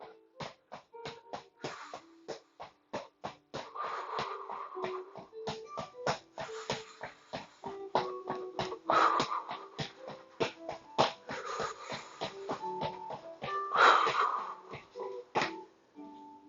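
Steady, controlled heavy breathing from a runner picking up pace during a fitness workout, with quick rhythmic breaths and footfalls repeating close and clear throughout, no talk.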